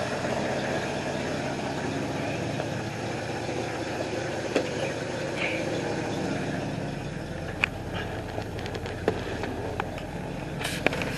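A Roachstang car's engine idles in gear with a steady, even rumble, broken by a few faint clicks and ticks, with no talking.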